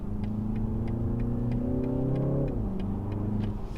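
A 2019 BMW 330 with a 255-horsepower four-cylinder engine and an eight-speed automatic revs up close by, its steady engine note climbing and then dropping back toward idle, with no talk.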